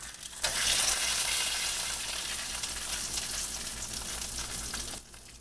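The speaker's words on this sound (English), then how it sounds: "we'll sear the other one for another minute" Pork tenderloin coated in Memphis-style dry rub sears in a hot pan, a steady loud sizzle and crackle that holds for several seconds before fading near the end, with no talking.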